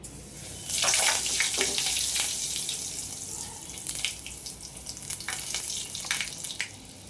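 Spinach pakoda fry in hot oil, making a steady, close, hissing sizzle with bursts of bubbling crackle that swell and ease over several seconds.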